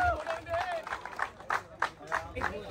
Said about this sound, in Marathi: जोरदार टाळ्या विजेत्या संघासाठी